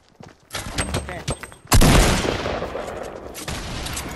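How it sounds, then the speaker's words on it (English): In Fortnite, a grenade launcher fires amid rapid gunfire, then a heavy blast booms and rumbles as it fades, with a player talking over the action. "It's my grenade launcher"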